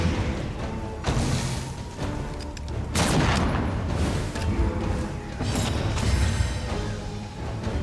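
A light grenade goes off in the video game Darkest Dungeon 2, bursting in booming, crashing blasts with layered debris and clatter. The sound is loud and sustained, with sharp hits at intervals.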